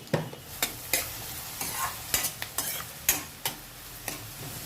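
Onions frying in a pan for a Rayalaseema-style chicken curry, stirred with a spoon in irregular scraping strokes over a low, steady sizzle, close up with no voices.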